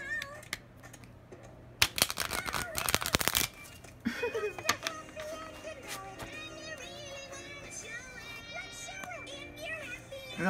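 Playing cards being shuffled up close, a loud rapid riffle burst lasting about two seconds followed by softer card handling, with voices talking and a cat meowing afterward.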